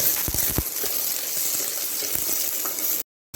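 Onions fry in hot oil in a kadai as the base of an Indian egg gravy: a close, continuous crackling sizzle with a few louder pops early on, then it cuts off abruptly just before the end.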